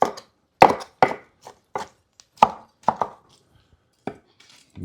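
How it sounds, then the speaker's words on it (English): Big knife chopping breakfast burrito ingredients on a board: about ten sharp, separate chops in an uneven rhythm, close and fairly loud, with short silences between strikes and no talking. "Now, we gotta get to chopping."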